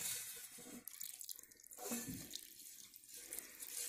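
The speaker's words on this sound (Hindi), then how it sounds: "तो ये हम इसके अंदर पानी डाल देंगे" Water is poured over raw mutton to wash it, making a continuous, fairly quiet splashing and running-water sound.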